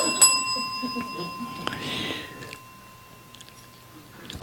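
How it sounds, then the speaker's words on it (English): A hand bell rung to call someone gives one bright strike near the start that rings on with clear sustained tones, fading over a few seconds amid faint background noise. "I'm ringing the bell to call him."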